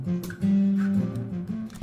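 Guitar played through a lead amp plugin in FL Studio with saturation, mixed at partial wet level; sustained distorted notes ring out loud and close, alone without talk.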